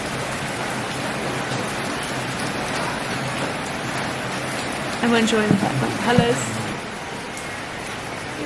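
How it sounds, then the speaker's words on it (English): Heavy monsoon rain pours steadily in Kerala, a dense, loud hiss of drops on surfaces throughout, while people talk briefly over it. "this is basically the first heavy rain we've got"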